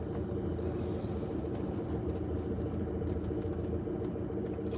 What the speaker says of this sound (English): I want to not be in a traffic jam right now.